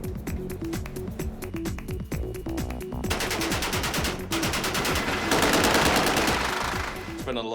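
Rapid automatic fire from an H&K UMP during a film's freeway chase, long loud bursts of gunshots rattling over engine roar and crashing noise, close and relentless.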